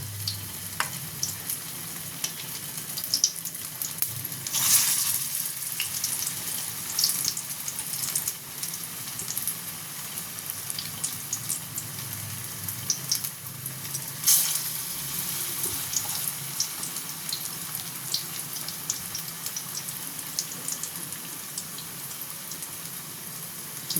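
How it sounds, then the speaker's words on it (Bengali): Eggplant and potato chops fry in hot oil with a continuous steady sizzle and crackle, with occasional louder spatters over about twenty seconds. "এইগুলো ভেজে নিই, তারপরে দেখাচ্ছি আপনাকে।"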